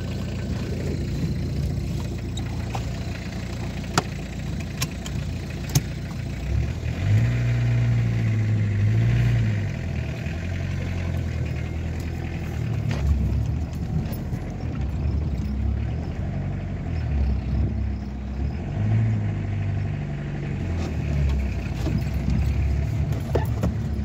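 A Renault R11 diesel engine idles and runs with a steady low rumble, its pitch rising and falling in a few throttle swells, with occasional metallic clicks and no talking.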